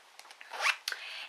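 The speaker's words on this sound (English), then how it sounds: "it has a zipper in the back where the cables are" Zipper on the back of a knitting needle set pouch pulled open in one short, close, quiet run with a few small clicks, no talking.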